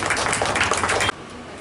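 Audience clapping loudly at a Hindi-language essay competition event in Nagda, a dense burst of applause that cuts off abruptly after about a second.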